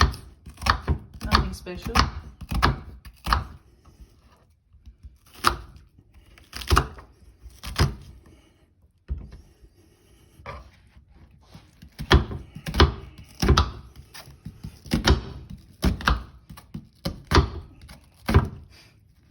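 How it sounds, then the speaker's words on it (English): Giblets are chopped with a knife on a board in an irregular, willy-nilly rhythm of sharp thunks, coming in bursts with a short pause midway; a voice speaks briefly. "Just no right or wrong way, just chop it."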